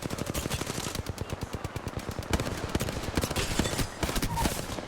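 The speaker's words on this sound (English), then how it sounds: "Now that hip fire with that Hemlock was insane." A rapid burst of Hemlock rifle hip fire in Apex Legends, dense repeated shots rattling in quick succession for several seconds, loud and close with layered in-game action noise and no talking.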